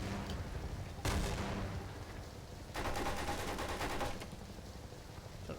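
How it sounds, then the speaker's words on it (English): Sniper rifle fire in the Half-Life 2 Get A Life mod: one sharp loud crack, then a longer rapid rattling burst of shots over steady background noise, fading at the end. "That's a sniper."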